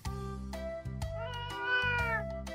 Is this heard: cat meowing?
yes